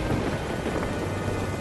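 Heavy rain pours down steadily with a deep rumble of thunder beneath it, a dense, unbroken roar with no voices.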